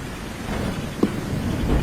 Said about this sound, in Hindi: अचानक से जंगल में तेज बारिश शुरू हो जाती है।